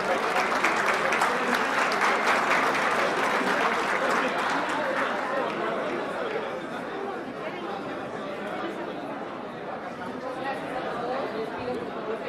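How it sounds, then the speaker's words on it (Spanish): Sustained applause from a large audience welcoming a speaker at a business forum conference, dense and steady throughout, with crowd chatter mixed in and a slight drop in intensity midway. "A recibimos con un fuerte aplauso"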